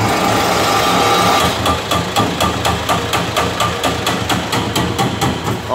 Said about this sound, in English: This button turns the hammer on, and in doing so, brings the hammer down the mast while it's hammering